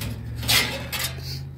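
Metal baking tray picked up and handled, two quick clattering scrapes over a low steady hum, close and fairly loud.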